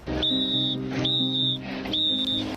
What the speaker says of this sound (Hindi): एक पुलिस वाले ने टक्कर से ठीक पहले सीटी बजाकर उस ट्रक को रोकने की कोशिश भी की